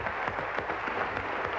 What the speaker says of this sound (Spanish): Un gran aplauso para él.